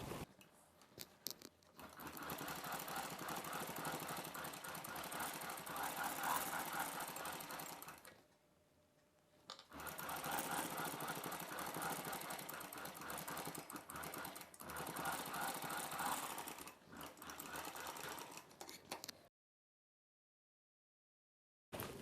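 A sewing machine runs fast over a buckram piece on a boat-neck Punjabi dress in two long, steady bursts split by a short pause, then stops into silence.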